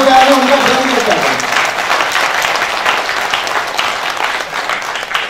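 A seminar audience breaks into loud, dense applause that carries on steadily throughout, with voices mixed in beneath the clapping.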